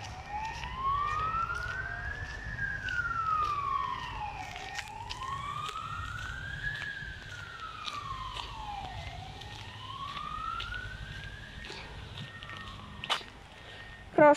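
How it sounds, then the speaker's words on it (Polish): An ambulance siren wails in a steady rising-and-falling pattern as it passes near the railway station in Ustronie Morskie, moderately loud over distant traffic, with a couple of brief knocks at the end. "Jakaś karetka pewnie jedzie."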